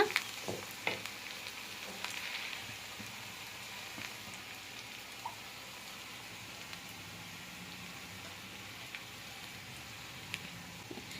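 Ingredients for an empty chalna sauté in a pan with a soft, steady sizzle and occasional faint stirring clicks, quiet and close, with no talk.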